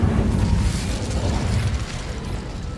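Incendio fire spell cast in the Hogwarts Legacy video game, a rumbling burst of flame with a crackling, mechanical texture that stays loud and then slowly fades.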